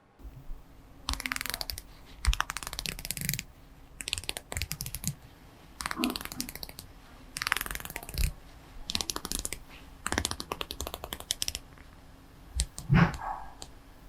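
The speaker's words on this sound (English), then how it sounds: "Now let's give it a click test." A steel dive watch bezel with raised polished markers is turned in bursts, giving runs of crisp, close ratcheting clicks separated by short pauses, with no talking.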